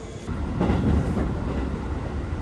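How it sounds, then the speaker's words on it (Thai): Onboard a train heading toward Takasaki in Gunma, Japan: a steady rumble of the railcar with faint rhythmic wheel clatter, heard alone without talk. "ขบวนนี้มันไปสุดที่ทากาซากิในจังหวัดกุนมะนะครับ"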